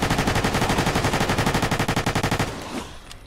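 Rapid hip-fired automatic gunfire in Fallout New Vegas, a loud, steady stream of closely spaced shots for over two seconds before cutting off into a brief fading tail.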